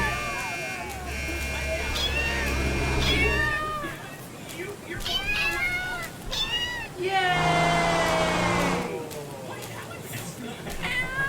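A cat meows over and over in rising, drawn-out cries while people talk loudly around it.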